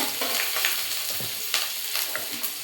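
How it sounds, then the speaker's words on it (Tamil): Cabbage, beans, carrot, tomato, garlic, ginger and greens sautéing in a pan for veg momo filling, a steady close sizzle broken by scraping stirs and light clinks, with no voices. "காய் வதக்குறோம்."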